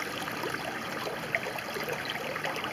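A stream of running water flows steadily outdoors, a continuous broadband rush and trickle at moderate level with no talking, holding an even, unbroken texture throughout.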